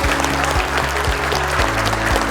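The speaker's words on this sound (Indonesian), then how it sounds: "Tepuk tangan sekali lagi yang meriah" Audience applauding at a bank staff motivational gathering, a steady roar of clapping heard close, with a low rhythmic thumping running beneath it.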